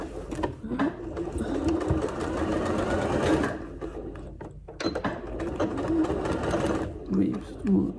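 Sewing machine stitching fabric for a Mana dress being turned into a maxi dress, running in steady bursts with a brief pause midway, with background sounds mixed in.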